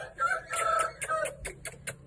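A caged fighting rooster gives a series of close, loud clucks and short crowing calls, rhythmic bursts that taper into brief sharp notes.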